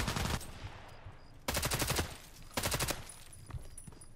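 A machine gun fires in the video game Contract Wars in three rapid bursts, the first trailing off, then two more, loud and close, with quieter game ambience between them.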